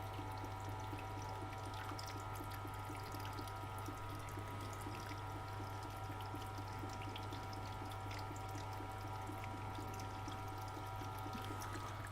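A steady wash of water poured and running onto a sharpening stone, quiet and continuous with a low hum beneath, no voices.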